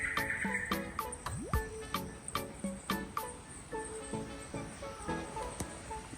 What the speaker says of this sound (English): Different frogs and things.